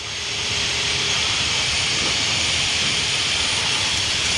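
Loud, steady roar and hiss of Learjet 45XR jet engines climbing out after takeoff, heard continuously from inside the aircraft with no talking.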